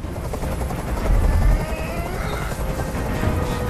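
A helicopter in the video game Detroit: Become Human hovers overhead, its rotor throbbing loud and steady with a slight swell partway through, with no voices.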